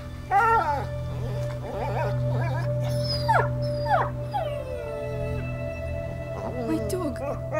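A dog in the video game A Plague Tale: Innocence whimpers and lets out pained, rising howls and yelps in repeated bursts over a low steady game drone, with a person's voice also present.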